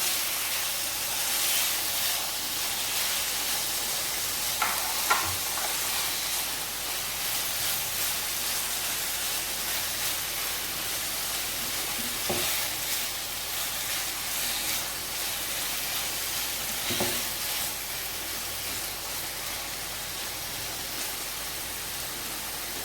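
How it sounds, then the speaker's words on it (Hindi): Marinated chicken for chilli chicken cooks in a pan over a medium flame, giving a steady, soft hiss with a few faint clicks and nobody talking. "अब ये मैरिनेटेड चिकन है, ये सारा इसके अंदर जाएगा।"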